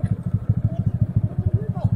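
A 2016 Honda Grom 125 motorcycle engine idles with a steady, rapid low thumping pulse, close by, while faint voices talk in the background.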